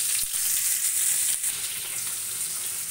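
Koi fish frying in a pan sends out a steady, loud hiss and sizzle of hot oil, with a brief crackling burst partway through and no voices.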